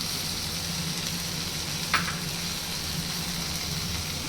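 Onions and tomato fry in a pan for an egg fry, giving a steady, close sizzle with one brief sharp scrape or stir partway through, without talking.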